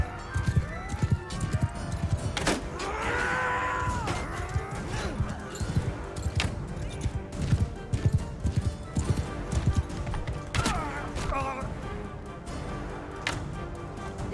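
Horse hooves clip-clopping in a video game, a steady rapid clatter of close hoofbeats running throughout, with a couple of neighs and thuds mixed in.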